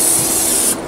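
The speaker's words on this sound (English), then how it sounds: "with spray." Cooking spray hisses from a can onto a Blackstone griddle in one steady, close, loud burst lasting under a second, then cuts off abruptly.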